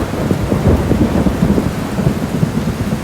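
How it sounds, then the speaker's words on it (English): Low, continuous rumbling thunder from an intense storm closing in over the Bear River, steady and loud with a rain-like hiss layered on top. "I heard thunder and saw lightning getting closer."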